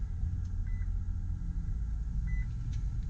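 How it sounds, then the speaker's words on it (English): A 2019 Infiniti QX60 AWD luxury SUV idling after starting: a low, steady engine rumble heard from inside the cabin, with a couple of soft electronic chimes over the hum. "just like this we will start the car"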